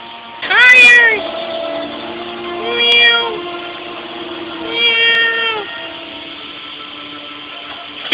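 A cat meows three times at intervals, each a drawn-out cry, over a steady low background hum.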